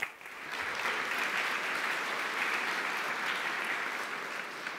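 Applause from the audience at PyCon UK 2019 Saturday lightning talks comes across soft and somewhat distant, a steady wash of clapping that holds at an even level for several seconds.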